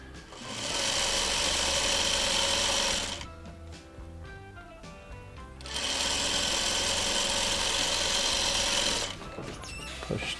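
Sewing machine stitching quilt pieces for a courthouse steps block, two sustained loud runs of whirring with a quiet pause between and faint handling after, no voices.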